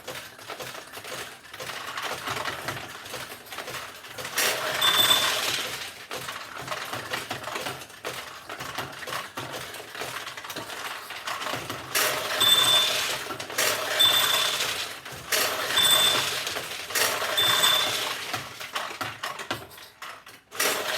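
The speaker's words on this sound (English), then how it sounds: "So we'll launch a couple more balls here." A 1973 Nishijin Model B vintage pachinko machine launches balls, giving rapid mechanical clicking and rattling bursts with metallic pings that come in several separate runs between quieter pauses.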